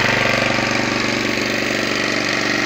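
Petrol garden tiller engine running after a pull start, a steady loud close-up chugging drone with a fast mechanical pulse throughout and no pauses.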